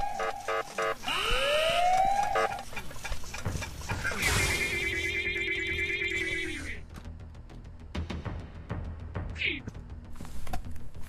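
A rising and falling alarm siren in the horror video game Ice Scream 4, loud and up close, mixed with a horse-like whinny and sharp game effects, with no talking.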